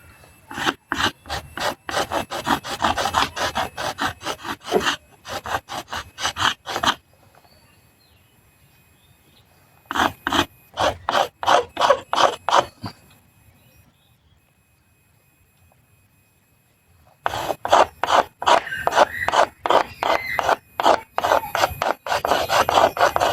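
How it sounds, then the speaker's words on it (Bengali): Repeated rhythmic rubbing and rasping on a wooden slingshot frame as its sharp edges are smoothed, loud strokes in bursts separated by quiet pauses, with no talking. "ধারালো অংশগুলো ঘষে একদম স্মুথ করে ফেলতেছি যাতে এখানে রাবার না বেঁধে না কাটে"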